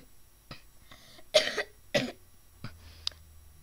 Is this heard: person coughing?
yes